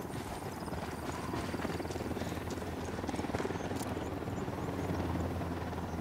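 A military helicopter approaches in the video game Ghost Recon Wildlands, its steady rotor chop throbbing continuously and fairly loud for the whole stretch under faint background game sounds.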